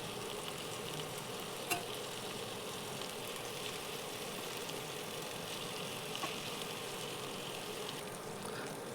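Chicken pieces fry steadily in a pan for a Kerala-style chicken curry, a continuous soft crackling hiss with one brief clink partway through and no talking.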